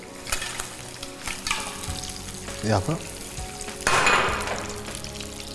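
Fish fillets sizzle steadily in a hot frying pan, close and fairly soft, with brief stirring scrapes and a louder burst of crackling as they are moved or turned.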